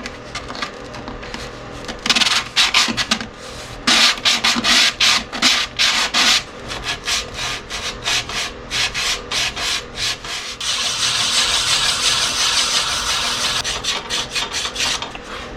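Sandpaper rasping against a 16-inch wooden chip and dip platter spinning on a lathe, with rhythmic scratchy strokes and pauses, then a steady continuous sanding hiss near the end.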